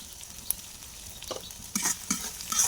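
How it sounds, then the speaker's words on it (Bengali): Green chilies, onion and garlic fry in a pan with salt, giving a soft sizzle and light crackle, stirred with occasional scrapes, swelling into louder spattering toward the end, no voices. "প্রথমে আমি কাঁচামরিচ, পেঁয়াজ, রসুন এগুলো সুন্দরভাবে ভেজে নেব।"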